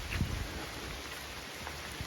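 Steady rain falling outdoors along a riverside trail in Connecticut, a dense continuous patter with a few sharper drops close by, no voices.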